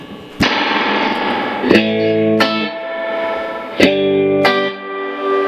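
Twangy electric guitar chords through a Fender amp with its spring reverb turned fully up ring out with a splashy, metallic tail, each strum decaying into a wet shimmer; close and loud.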